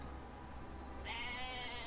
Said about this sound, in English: Hey, goat!